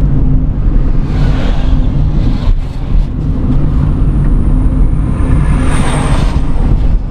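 Heavy trucks roll past on the BR-116 highway in Bahia, Brazil, making a constant loud roar of engines and tyres that swells and fades as vehicles go by, with no voices.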